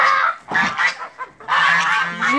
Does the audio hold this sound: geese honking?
yes